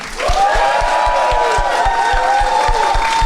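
A live Halloween special audience cheers and claps loudly for a slasher film nominee, whoops and shouting over sustained applause, with rhythmic low thumps like stomping in a steady beat.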